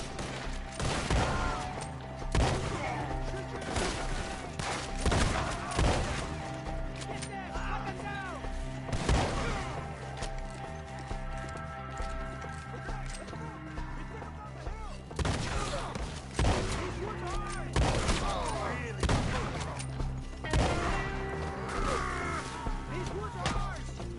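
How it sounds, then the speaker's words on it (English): Gunfire in Red Dead Redemption 2 during an ambush, with repeated loud shots and thuds scattered over a busy battle soundscape, and voices talking throughout. "Shoot the one up there first!"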